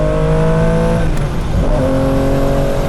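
High-revving sports car engine with a tach running to 10,000 RPM, modeled on old Porsche RSR race cars, holding a loud, steady high-rpm drone up close, the pitch dipping briefly mid-run before climbing back and sustaining.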